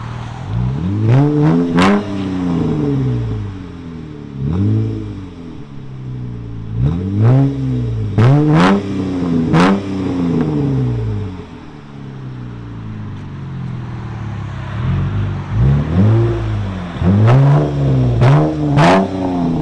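A 2013 Dodge Charger AWD with a 3.6L V6 and Purple Hornet glass pack exhausts revs repeatedly in loud, close bursts, each rising to a throaty peak and falling back to idle, with no talk.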